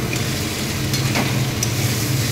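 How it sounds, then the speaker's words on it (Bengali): Steady loud sizzling of prawns being stir-fried with raw jackfruit in a pan, a continuous frying hiss with occasional faint scrapes and pops, close up and without speech. "তো এবার আমি মাছটাকে দিয়ে দেবো। তো আবার একটু কষিয়ে নেব ভালোভাবে।"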